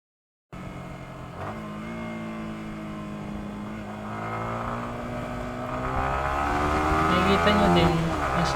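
A stock Yamaha R15 V3 motorcycle engine starts abruptly, then revs steadily higher toward its top RPM in one long, loud climb, with a rising whine that peaks near the end.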